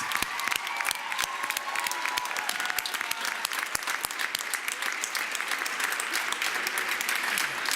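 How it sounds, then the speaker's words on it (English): Audience at a school board meeting breaks into sustained applause, a dense, steady patter of many hands clapping together with a few louder claps standing out, lasting several seconds with no speech over it. "give her a round of applause."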